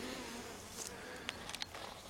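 Buckfast honeybees, more yellow at first and now darker, buzzing steadily around a beehive outdoors, a dense close hum with a few individual bees zipping past near the end.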